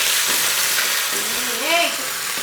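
Cumin seeds fry in hot oil for festival cooking, a steady, close sizzle and crackle that fills the whole moment.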